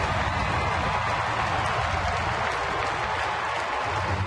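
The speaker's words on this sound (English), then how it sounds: "The crowd is up." A baseball crowd at a Cleveland at Detroit game roars with the bases loaded, a broad, continuous wash of cheering that holds steady throughout, with no clear talk over it.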